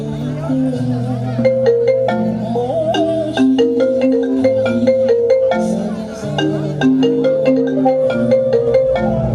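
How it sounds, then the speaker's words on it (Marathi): A melodic electronic phone ringtone plays steadily and loudly during a stage play at a school annual function, its repeating tune of bright tones continuing without pause for several seconds. "रामरावला फोन लावून बोलून घ्या"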